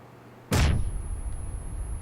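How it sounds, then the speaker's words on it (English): A grenade explodes in the video game PUBG with one sudden loud, close blast, then a long low rumble fades under a steady high ringing tone. "And then what you want to do is throw a nade."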